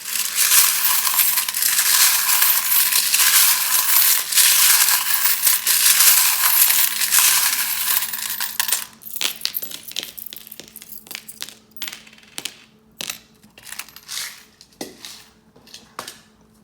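Tarot charms and dice are cast during a reading, giving a long rattling, metallic jingle and clatter at close range, then a sequence of sharp separate clicks and clinks as the pieces settle, with no talking.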